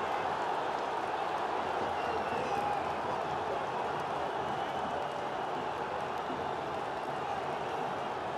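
A dense, steady roar of stadium crowd noise with applause mixed in fills the whole stretch at a Copa Libertadores football match for Atlético Mineiro, loud and unbroken throughout.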